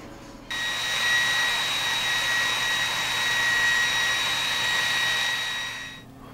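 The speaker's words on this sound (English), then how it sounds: "Found my Pop's Dremel." A Dremel rotary tool cuts into plastic action figure heads, starting abruptly with a steady high-pitched whine that holds loud and even for about five and a half seconds, then stops. No one speaks over it.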